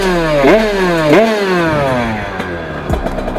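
A 1988 Bidalot Factory motorcycle engine revs hard and close, with two sharp rising blips around the first second, then a steady buzzing idle with small throttle stabs and no talking.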